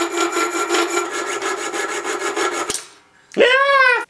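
Hand saw cutting through a sword blade, giving loud, close, rapid rhythmic strokes for a few seconds, then a short pause and a brief rising scrape.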